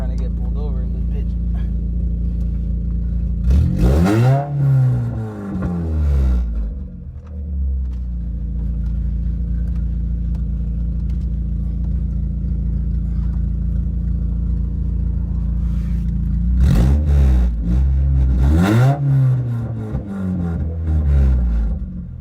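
A Mazda Miata fitted with a new header revs loudly, two sharp rising bursts of engine roar standing out over a steady rumbling idle.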